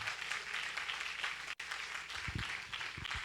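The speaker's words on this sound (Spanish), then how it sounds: "Si va a aplaudir, hágalo fuerte para Dios." A church congregation applauds in a steady broadband patter of clapping that continues throughout, with a brief gap midway and a few low thumps near the end.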